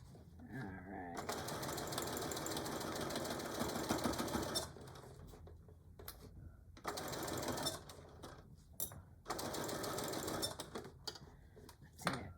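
A sewing machine runs in several bursts while back stitching a tool carry bag, a fast rattling whir that starts and stops with short quiet gaps between the runs.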